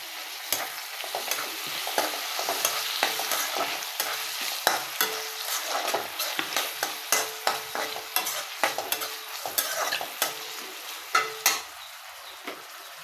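Potato and tomato frying in a pan for kande pohe are stirred steadily, with a continuous close sizzle broken by frequent scraping strokes of the spoon. No one speaks.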